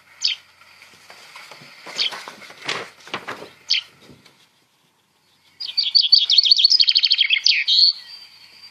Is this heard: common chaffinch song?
yes